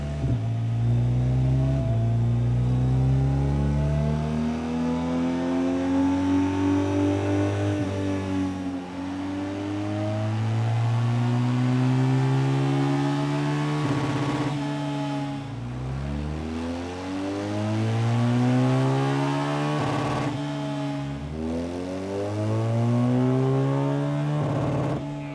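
A BMW R1250GS Trophy motorcycle with a custom ECU remap roars on a dyno through several repeated full-throttle pulls. Each pull climbs steadily in pitch, then drops back before the next loud run.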